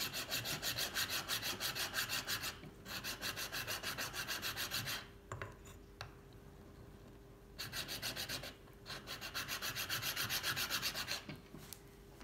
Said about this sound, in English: I'm going to conclude it now with sandpaper